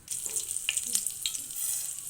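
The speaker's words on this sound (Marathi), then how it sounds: "आपण त्याला फोडणी देणार आहोत" Hot oil hisses and crackles steadily as mustard seeds and cumin sputter and pop in it, a bright continuous sizzle heard up close.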